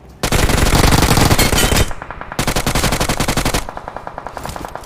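Automatic rifle fire in PUBG Mobile, a loud, close stream of rapid shots in two long bursts separated by a brief pause, with no voice.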